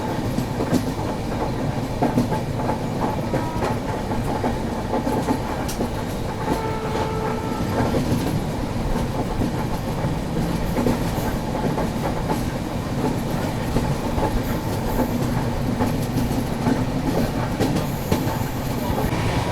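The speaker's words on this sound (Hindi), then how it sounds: "देखो ट्रेन इधर साइड भी घूम रही है, मस्त एक से एक कर्व आ रहे हैं।" The Pune Kanyakumari Express running on rails through hilly curves, a steady loud rumble with rhythmic clickety-clack of wheels heard from inside the train, continuous throughout.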